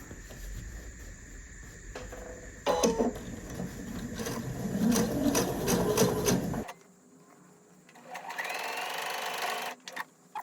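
A sewing machine stitches a quilted picnic placemat in fast bursts of rapid mechanical whirring, separated by brief pauses and handling noise.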